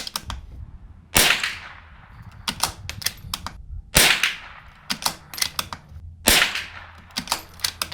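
Ten rounds of Federal Champion .22LR fired from a $4000 custom rifle outdoors, sharp close cracks spaced irregularly, each followed by a short echo tail, no talk.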